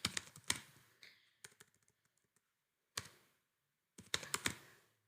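Quick bursts of key clicks on a computer keyboard, close and distinct, separated by short quiet pauses as a word is typed in stretches.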